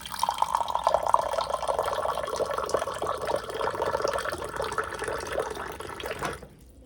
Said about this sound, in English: my little machine right here is gonna pour some water in there